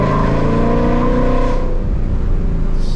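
A 2021 Ford Mustang GT on E85 with stainless Power headers and a Roush cat-back exhaust roars loudly from inside the car, engine note droning steadily then easing off, with no talk.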